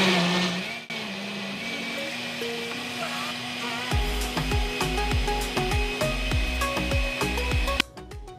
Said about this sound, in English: So my peppers and tomatoes, onion, garlic are all soft, ready to blend.